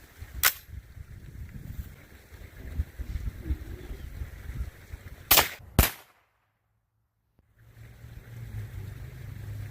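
Three suppressed 5.56 NATO rifle shots fired through a Dead Air Sandman suppressor, sounding as sharp cracks near the start and at about five and six seconds, the last two close together, over outdoor background noise.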